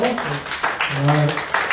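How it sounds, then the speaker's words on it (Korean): A church congregation applauds during a Sunday worship service, a steady rush of clapping with a voice speaking or singing over it throughout. "함께 박수를 한번 돌려드릴까요?"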